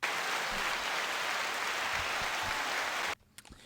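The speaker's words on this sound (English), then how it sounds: "let's go ahead and give a big round of applause for Dallas and Colby today" A dense, even round of applause for podcast guests fills the room at steady volume, then cuts off abruptly near the end, leaving a few faint sounds behind.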